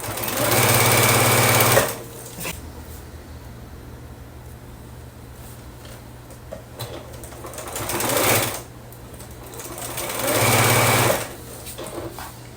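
A sewing machine stitches quilt block pieces for a Hugs and Kisses quilt in three close, loud whirring bursts, with quiet pauses between them.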